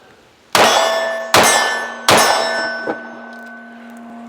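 Three loud, ringing metallic clangs from Archon Type B pistol rounds striking a steel target, evenly spaced about a second apart, each decaying with a sustained ring, followed by a fainter fourth ping.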